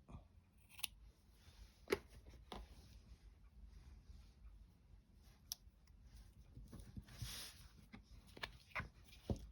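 Scissors snip through scraps of green paper for a woven journal card, giving several sharp, separate clicks and snips at close range against a quiet room.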